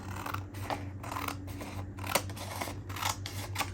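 Scissors cut up the side of a paper envelope, making a quiet, close run of crisp snips and paper rustles in a steady rhythm with no voices.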